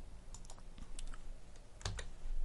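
Typing on a computer keyboard while filling cells in a LibreOffice Calc spreadsheet: a short, close run of quick clicking keystrokes in quiet, ending in a louder pair of key presses.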